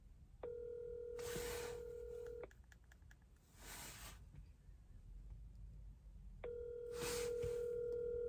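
Telephone keypad dialing tones from a phone call: a long steady tone, then scattered short beeps with soft noise bursts, and another long tone, clear and close.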